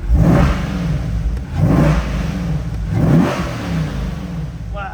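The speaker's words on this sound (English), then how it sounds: "Never gets old revving these C8s up." A 2023 Corvette C8 coupe engine revs up several times in quick succession, each burst rising and falling, loud and close with no talking.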